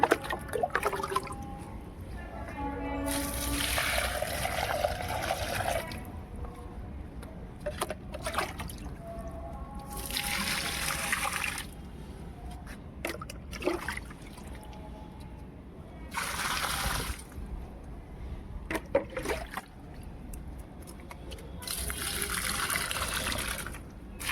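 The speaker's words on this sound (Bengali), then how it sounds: "এই যে নিচের থেকে জল নিয়ে এলাম, তো গাছগুলোতে দিচ্ছি" Water from a container poured onto dry potted plants on a sunny rooftop, coming in several separate bursts of splashing and trickling with quiet pauses between them.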